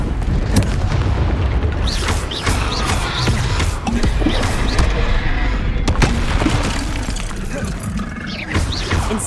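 Expelliarmus spell effect from Hogwarts Legacy on PS5, heard as repeated booming, crashing bursts across the whole stretch with a voice speaking over the combat.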